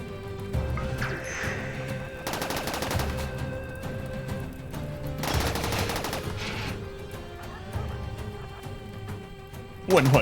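Rapid chained explosions and crackling bursts as mortars detonate one after another in RimWorld, dense, continuous booming and popping under a voice talking.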